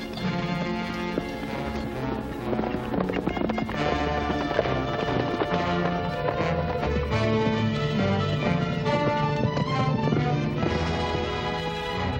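Horses' hooves pound in a fast, steady gallop beneath loud dramatic orchestral music that fills the whole stretch, in a 1939 western serial.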